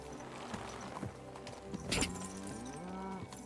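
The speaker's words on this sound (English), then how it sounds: "Come to me, horse." Horse hooves clip-clop in a video game, a run of soft rhythmic footfalls drawing closer over a busy game soundscape with music and ambient layers.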